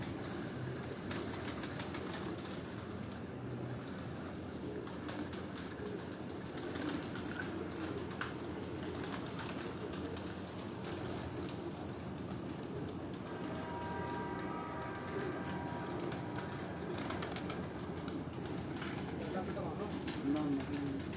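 Pigeons coo softly on a rooftop in Rawalpindi in the evening, a faint continuous murmur of birds mixed with steady distant background noise and a passing rumble, with no nearby voices.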